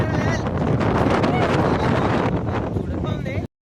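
Strong outdoor wind buffets the microphone in a loud, continuous rush that fills the whole stretch before cutting off abruptly, on a countryside holiday outing.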